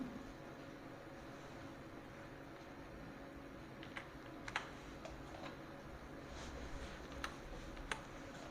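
Soft, sparse keystrokes on a computer keyboard while a value is typed into an Excel spreadsheet, faint clicks scattered over a quiet room hum, with a few slightly sharper taps toward the end.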